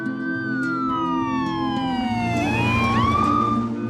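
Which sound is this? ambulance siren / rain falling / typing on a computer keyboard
ambulance siren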